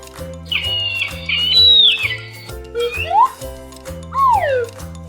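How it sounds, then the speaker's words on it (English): Eagle call, a couple of high piercing screeching cries with sharp falling whistles, heard over a steady bouncy backing music track, fairly loud and close. "E-A-G-L-E. Eagle."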